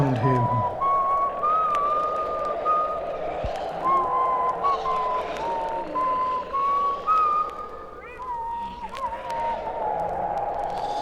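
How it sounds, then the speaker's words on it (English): A man whistles a wandering tune to himself in a spooky Halloween story effect, the melody drifting near and clear over a low, murky background bed, with a brief rustle near the start. "began to whistle to himself, trying to take his mind off of the weird things going on all around him"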